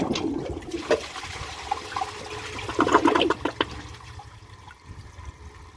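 A 2007 Toto Lloyd toilet flushes with a bag in the bowl, a close, rushing gurgle of water that surges in the middle and then drains off into a quieter trickle.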